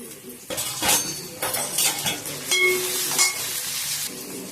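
Sliced onions sizzle in hot oil with curry leaves and green chilies, a steady close frying hiss broken by clinking utensil and spoon scrapes against the pan.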